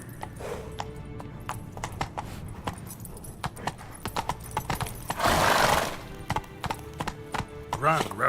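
The horse Roach galloping in The Witcher 3, with steady rapid clip-clop hoofbeats close by, a loud whooshing burst midway, and a whinny near the end, interspersed with voices.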